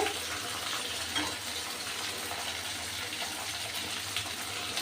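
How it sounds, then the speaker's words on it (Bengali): Nigella seeds and bay leaf frying in hot oil for tempering, a soft, steady sizzle heard close and alone. "ফোড়নের জন্য দিয়ে দিয়েছি কালো জিরে আর তেজপাতা।"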